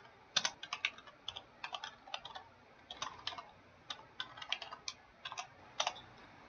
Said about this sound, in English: now we're going to type a whole bunch of softwares on here